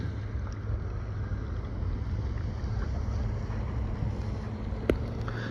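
A steady low rumble of small boat engines on open sea water near Bozburun, Turkey, mixed with wind buffeting and faint splashing, continuous throughout.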